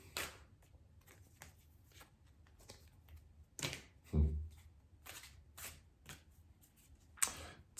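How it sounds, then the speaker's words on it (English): Tarot cards shuffled and pulled from the deck, soft papery riffles and taps scattered through the quiet, with a sharper flutter near the end. "Let's pull some cards, shall we?"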